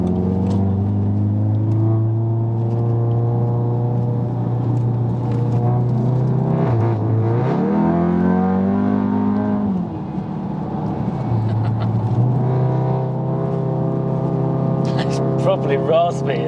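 A tuned Audi TTS engine revving, a loud steady droning note that dips, rises sharply and drops back before settling into a sustained rev again, close by with voices talking over it.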